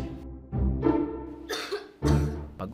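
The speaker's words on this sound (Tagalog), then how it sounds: "pag-ubo" A person coughs in several harsh, separate bursts at close range, with short pauses between them and no other sound behind.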